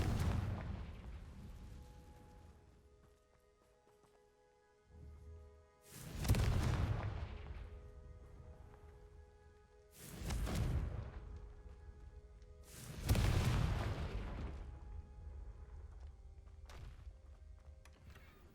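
Confringo blasting spells in Hogwarts Legacy, a video game, erupt as four loud booming explosions spaced a few seconds apart, each a broad burst that rolls off over a quiet background hum.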